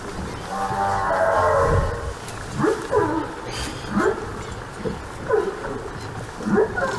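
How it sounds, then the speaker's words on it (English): Humpback whale song recorded off Ireland's south coast, a series of low moaning and rising whooping calls repeated every second or so, with a longer swelling note at the start over steady water noise. "The whale started singing."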